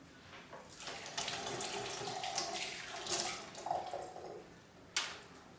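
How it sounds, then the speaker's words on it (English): Water from a kitchen tap splashes into a pot while braised ossobuco is being cooked, a steady close pouring and gurgling for several seconds that ends with a sharp clunk. "I'm going to add a bit of water."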